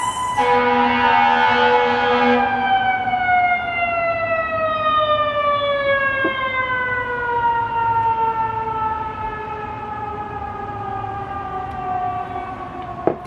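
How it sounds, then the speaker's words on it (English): A loud police or fire truck siren wails nearby in Seattle, its long tone sliding steadily downward as it winds down, with no talking. "there's police sirens, fire truck sirens"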